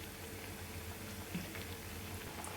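Mixed sprouted lentil vadas deep-fry slowly in hot oil, making a steady, dense bubbling crackle with occasional soft pops and no talking.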